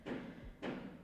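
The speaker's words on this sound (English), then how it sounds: "that is a builder hitting a wheelbarrow with a hammer" A builder outside striking a wheelbarrow with a hammer: two dull, hollow thuds about half a second apart, muffled and moderately distant.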